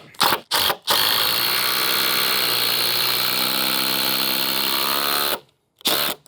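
A power drill whines steadily for about five seconds, close and loud, driving a deck screw, with short bursts of the motor before and after.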